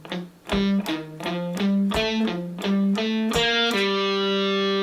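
Distorted electric guitar plays a palm-muted riff from a song: a tight run of chugging, clipped notes in a steady syncopated rhythm, ending on a longer sustained note, loud and alone with no talking.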